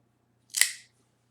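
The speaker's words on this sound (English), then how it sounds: "Now let's go ahead and clip the cap." A cigar cutter clips the cap of a Fuente Fuente Opus X Angel's Share PerfecXion X cigar in one sharp, close snip, alone in a quiet room with a faint low hum behind it.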